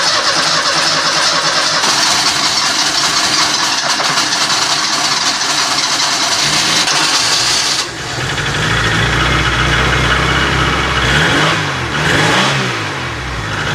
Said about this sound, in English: So this should fire when petrol gets through to the carb